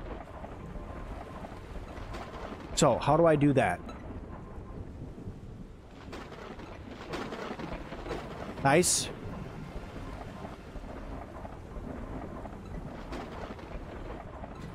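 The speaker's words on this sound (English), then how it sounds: "Oh god, it's storm time again!" A thunderstorm rolls through the Drill Deal video game on an oil rig at sea: steady rain hiss with two loud thunder cracks several seconds apart, while a person talks quietly over it.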